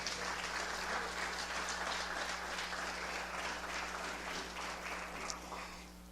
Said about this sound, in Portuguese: glorifique a Ele e aplauda ao Senhor mais uma vez